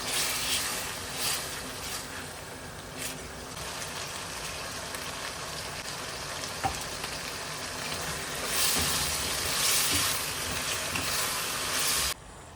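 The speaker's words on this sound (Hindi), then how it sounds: "मैंने कीमे को अच्छे से भून लिया था" Keema frying in a pan gives a soft steady sizzle like light rain, swelling louder near the end and dropping away at the close, with a faint clatter now and then.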